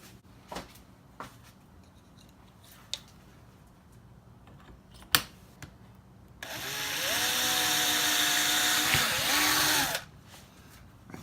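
A power drill bores holes into the top of a UJK Parf system workbench, one steady high whine lasting a few seconds with a slight pitch shift, preceded by scattered clicks and knocks.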